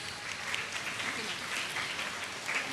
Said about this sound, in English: Let us all give a huge round of applause.